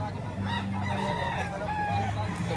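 A stag gamecock crows close by with a drawn-out call at a poultry market in Lipa, Batangas, with other chickens clucking and faint voices in the background.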